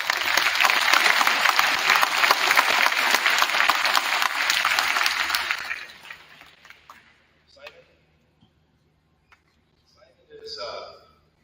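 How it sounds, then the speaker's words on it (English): A basketball banquet crowd gives a big round of applause for a player, loud and dense clapping for about six seconds that fades into near silence, followed by brief voices. "So let's give Dane a big round of applause."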